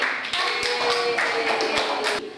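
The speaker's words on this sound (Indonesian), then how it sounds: "kasih tepuk tangan buat Birli" A class claps together, producing a brief burst of loud, busy applause with a few sharper individual claps, which fades at the end.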